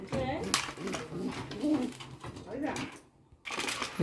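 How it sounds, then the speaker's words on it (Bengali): A Bombay pigeon cooing in repeated soft, throaty, rolling phrases at close range, with a brief pause near the end before another burst. "কবুতর অনেক সুন্দর ডাকে"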